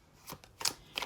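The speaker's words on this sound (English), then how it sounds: "so that I wasn't sitting here shuffling for hours and hours, I did a pre-shuffle" A deck of playing cards being shuffled up close: three quick riffling bursts in about a second, crisp and papery, with no one speaking.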